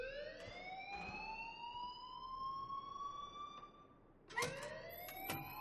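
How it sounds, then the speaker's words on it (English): An alarm from the video game Life Is Strange wails steadily in a long rising siren-like tone, joined late by sharp sweeping bursts, loud and alone with no talk over it. "please turn off that alarm"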